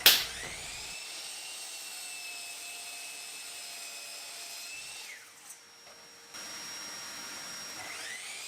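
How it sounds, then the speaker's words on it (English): A mitre saw cutting wood gives a steady high motor whine that winds down, pauses briefly, then spins back up, loud and close with no speech. "Mitre saw."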